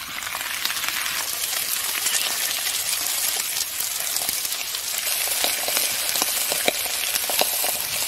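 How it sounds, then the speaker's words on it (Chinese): Pieces of soft-shelled turtle fry in garlic oil in a large iron pot, giving a steady close sizzle with crackles and occasional stirring clinks. "翻个面，把甲鱼两面都煎黄。"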